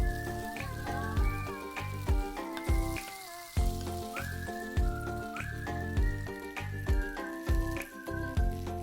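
Oil sizzles and crackles steadily in a pan as tofu fries, with occasional clinks and taps of a utensil over soft background music.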